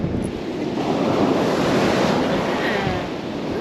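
Ocean surf rolls steadily onto a resort beach in a loud, broad wash with wind buffeting the microphone throughout.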